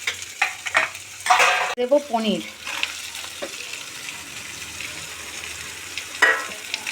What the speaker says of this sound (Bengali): পেঁয়াজগুলো দিয়ে একটু নাড়াচাড়া করে নেব